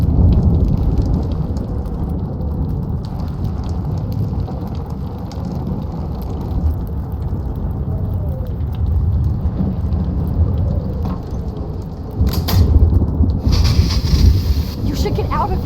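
A heavy storm in Life is Strange Remastered brings loud, continuous rain with rolling thunder that swells near the end. Voices talk over the downpour at times.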